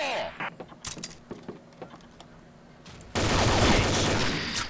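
Guns fire in the online shooter Combat Arms, first as a few scattered sharp shots and mechanical clicks. A sustained loud burst of automatic fire follows near the end.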